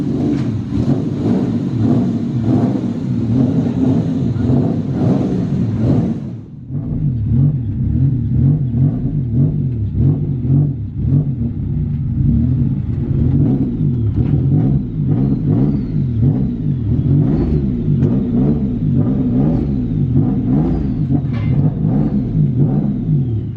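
Turbocharged BMW M52 straight-six in an E36 revving hard on a dyno, a loud sustained wail whose pitch climbs and falls in repeated sweeping pulls, with a brief dip between runs.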